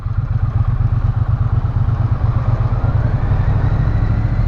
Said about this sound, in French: Allez, tout au frein moteur en première.